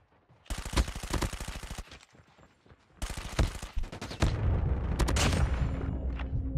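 Rapid automatic gunfire in Call of Duty Mobile, loud close bursts of rattling shots separated by a short pause, then a heavier rumbling barrage with more shots layered over it.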